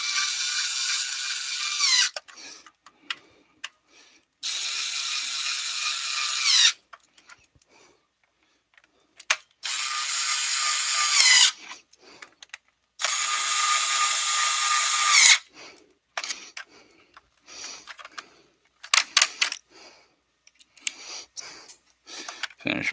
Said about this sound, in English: I'm going to hit them with my electric screwdriver real quick